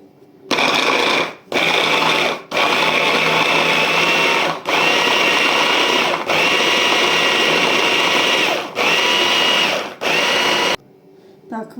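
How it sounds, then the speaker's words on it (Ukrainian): A blender whirs loudly in several long bursts, pureeing soft cooked apples, stopping briefly between each run before a final pause. "Мені їх треба блендером перечупти"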